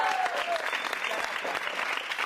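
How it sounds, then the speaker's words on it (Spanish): Schoolmates give an enthusiastic round of applause for the future student president candidate. Dense, continuous clapping stays loud and even throughout, with a brief whistle and crowd noise mixed in. "Un fuerte aplauso para el futuro presidente estudiantil."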